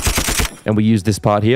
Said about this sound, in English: which is this sort of machine gun sound effect